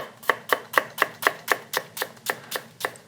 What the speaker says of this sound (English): We want these shallots diced up really, really fine.